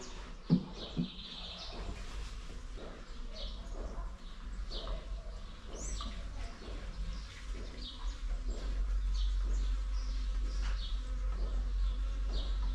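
Bees swarm around a beehive in a steady, dense buzz that lasts throughout and grows slightly louder toward the end, with a few sharp knocks early on and faint bird chirps mixed in.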